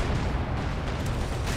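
A grenade blast in Company of Heroes 2 gameplay, a dense, loud rumbling burst filling the short moment with low booming noise.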